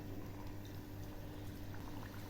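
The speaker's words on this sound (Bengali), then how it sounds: "এবার বিস্কুটগুলো ছেড়ে দিচ্ছি।" Biscuits frying in hot oil in a wok: a dense, even bubbling sizzle with low rumbling hum, steady and close with no talk.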